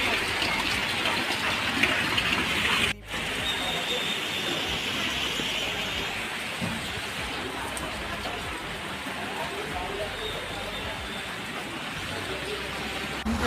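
Rainwater rushes through a flooded, overflowing drain during heavy rain in Nagpur, a loud, steady broadband gush that continues without a break for the whole stretch.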